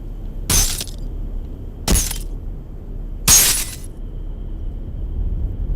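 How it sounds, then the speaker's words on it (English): Three separate crashes of glass shattering, spaced a second or more apart over a low ambient rumble, from the video game Condemned: Criminal Origins. "that guy was gonna break the glass"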